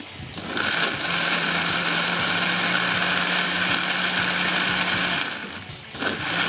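A blender grinds almonds in a steady, loud whir that runs for about five seconds at constant pitch, then stops and briefly restarts.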